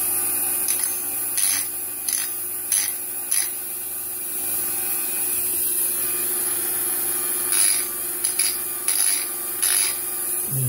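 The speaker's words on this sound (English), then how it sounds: "Going to take those burrs off that we've put on there." Steel straight razor blade being deburred by hand, producing soft repeated rubbing and scraping strokes in short bursts, close and steady against a faint background hum, with no talk.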